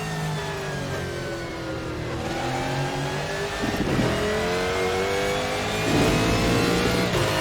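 A Ford GT1 race car at Mid Ohio in a racing game accelerates hard, its engine note climbing through gears with short-shifted upshifts, loud and close, with no talking.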